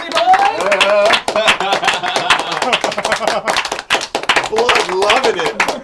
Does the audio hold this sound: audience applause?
yes